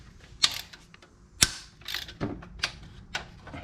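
A ratchet wrench working tight bolts loose on a car, several sharp cracks as the bolts break free amid clicking mechanical ratcheting, close and unaccompanied by speech.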